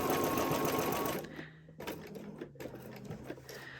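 Sewing machine stitching over a bag seam in a loud, fast, close mechanical whir for about a second, then stopping, followed by quieter handling clicks and light fabric noise.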